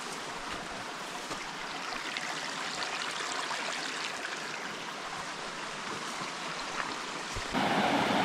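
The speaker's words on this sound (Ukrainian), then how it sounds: "Оцей струмочок, по которому ми йшли. Ну вон там вон трошки далі. Він впадає вже в цю річку." Steady rushing and babbling of a mountain stream in the Carpathians where it flows into a river, a continuous broad wash of water that swells slightly louder near the end, with no voices.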